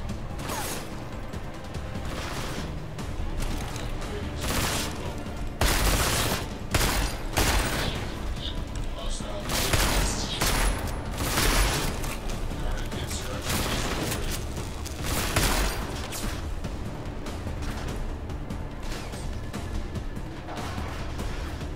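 Gunfire in the video game Deus Ex: Mankind Divided comes as repeated loud bursts and shots scattered through a busy mix of game mechanisms and booms, with a voice briefly heard among them.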